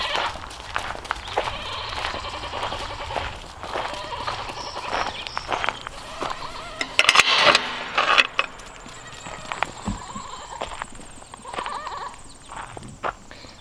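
Goats bleating in a farmyard at morning feeding time, with horse-like calls and some hoof clatter, a loud burst of bleats in the middle amid steady animal noise.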